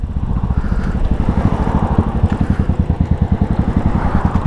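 A Royal Enfield Classic 500 Limited Edition motorcycle being ridden, its single-cylinder engine thumping in a steady, loud, rapid low pulse throughout, heard up close with no talking.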